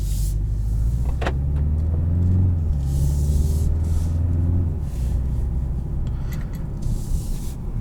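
A 2019 BMW 330i xDrive M Sport driven in sport mode produces a steady, loud, low engine drone heard from inside the cabin, with rising and falling pitch as it accelerates and road rumble underneath.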